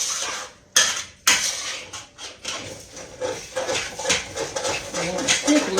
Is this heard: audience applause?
no